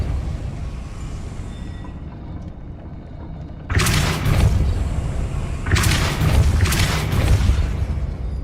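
A Depulso force spell cast in Hogwarts Legacy: quiet ambience, then two loud, broadband booming blasts with rumbling tails, with no talking.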